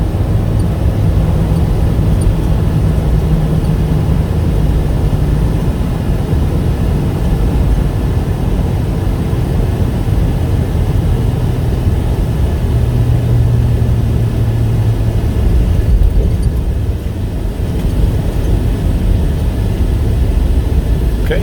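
A 2017 Ford F450 XLT Jerr-Dan self-loader wheel-lift truck driving, giving a loud, steady low engine drone with road rumble and subtle pitch changes as the transmission shifts, heard continuously from inside the cab.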